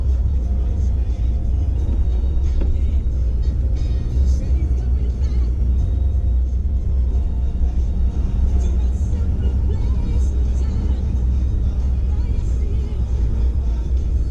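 A car driving through city streets in New Westminster, heard from inside as a steady low engine and road rumble throughout while someone talks over it.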